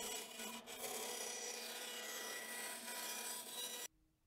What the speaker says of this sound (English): I took the now half template over to the bandsaw and roughly cut out the shape